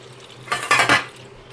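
Salty water left from washing squid poured out of a vessel, a short splashing burst of about half a second amid kitchen clatter, fairly close.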